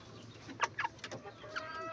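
A Kelso gamefowl rooster at a breeding farm lets out several short clucks and throaty calls, close and fairly clear over a quiet background.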